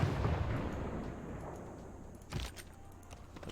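Units firing in the strategy video game Civilization 6, a deep rumbling artillery boom that fades out, followed by a second sharper blast about two seconds later, moderately loud with no talking.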